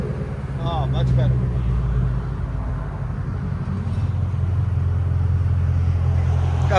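Car exhaust fitted with Dynamax race bullets idles steadily with a low, even rumble, and a voice talks briefly over it near the start.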